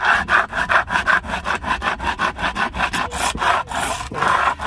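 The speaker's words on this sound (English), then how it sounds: "Take your can, flip it upside down, flip it around this way, and let's just start rubbing." Rapid rhythmic scraping strokes, an upside-down metal can rubbed back and forth against a hard surface to open it, close and steady with no talking.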